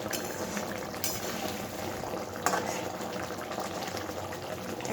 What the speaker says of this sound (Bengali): আরও মিনিট দুয়েক আমি এটাকে ফুটিয়ে নেব